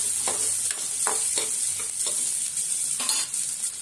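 Onion is stirred and fried in a pan, a constant sizzle punctuated by a regular series of scraping strokes from the spoon against the metal.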